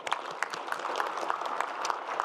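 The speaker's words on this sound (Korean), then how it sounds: "박수 한번 주세요." Applause from an audience at a town-hall meeting with the president, a steady patter of clapping with no voices, even and moderately loud throughout.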